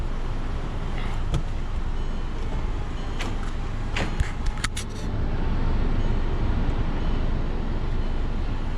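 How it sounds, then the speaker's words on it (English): A 2009 Volkswagen Eos retractable hardtop folds down while the engine runs, with a steady low motor hum broken by a few mechanical clicks and clunks midway, then a louder whirring. "Now the car does have to be on when you put the top down."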